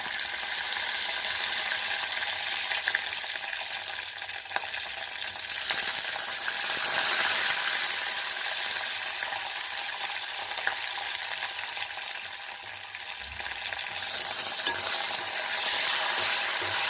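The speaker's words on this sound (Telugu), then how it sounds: "పచ్చిమిరపకాయలు వేస్తున్నాను." Green chillies fry in a pan for brinjal coconut chutney, giving a loud, continuous sizzle and crackle with occasional stirring scrapes, close up and without speech.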